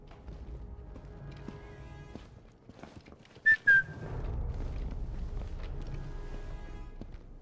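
Player character whistling in the Sniper Elite 5 video game: two short, sharp whistle bursts that cut through a quiet ambient game background, followed by a rise in low rumbling environmental noise.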